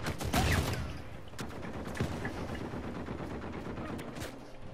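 Gunfire in Uncharted 4 multiplayer: a dense burst of shots near the start, then continuous rattling fire and game noise under a busy mix that stays loud throughout.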